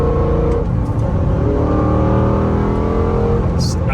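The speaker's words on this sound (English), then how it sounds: "Valves are closed now, so you only hear the intake." A BMW M5 engine drones loudly and steadily through its intake with the exhaust valves closed, holding a constant throaty hum close by for a few seconds.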